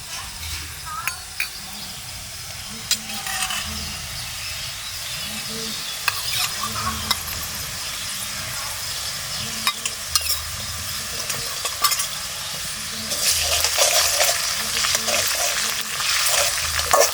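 Onions browned in a pan sizzle and fry steadily as ginger-garlic paste is stirred through them, with scraping strokes and occasional clinks from the spoon. The frying grows louder and brighter toward the end, while a faint voice stays in the background.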